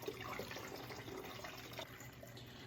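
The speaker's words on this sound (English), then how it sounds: "Add water to top." Water runs steadily from a tap into a gallon jug for homemade root beer, a soft continuous trickle and fill heard close and fairly quiet, with no talk.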